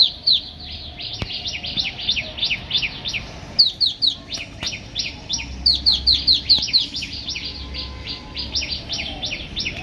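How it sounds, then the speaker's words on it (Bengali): Small birds chirp in quick repeated bursts around a home garden in the early morning, a lively, moderately close twittering that continues throughout. "খুব পাখির ডাক চারিদিকে শোনা যায়।"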